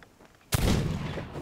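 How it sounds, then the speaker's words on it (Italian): A single loud, booming gunshot from the pirate video game Sea of Thieves cracks out after a quiet moment, followed by a rumbling echo that decays slowly. "Segui gli spari, eccoti."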